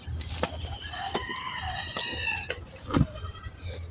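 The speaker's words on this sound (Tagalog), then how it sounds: "Nandito pala yung mga ibon" Chickens and other farm birds calling in a farmyard with goats, with clucks and a drawn-out crowing call over steady background chatter of the flock, fairly close and moderately loud.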